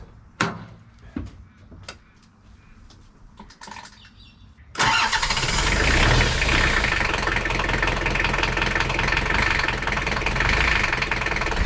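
A Gen 1 solid-axle Toyota 4Runner on Kumho mud tyres cranks and fires after a few faint clicks and knocks, then settles into a loud, steady, rough idle close by.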